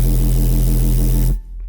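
Synth bass patch with a wavetable sub two octaves down and a noise layer added, a loud deep drone wrapped in bright hissing static that holds steady and then drops away abruptly, leaving a faint low tail.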